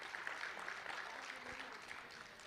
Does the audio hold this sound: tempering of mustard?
no